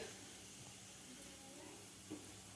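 Cumin seeds sizzle in about two spoonfuls of hot oil in a pan, giving a steady, faint hiss that carries on unbroken.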